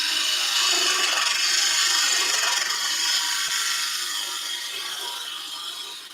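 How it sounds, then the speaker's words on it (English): A wood lathe spins a spindle blank while a turning tool cuts the wood, producing a steady, loud, rasping hiss that stays constant for several seconds and then eases slightly toward the end. "I'm going to stop the lathe."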